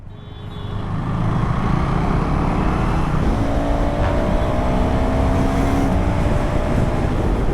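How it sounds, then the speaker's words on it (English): Cars rush past on a road and build into a steady, loud roar of traffic after the first second, with passing tire and engine noise throughout. "I'm so surprised all these cars are going."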